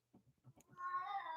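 A cat yowls in one long, loud, singing wail that follows a few short soft sounds, close and alone with no talk.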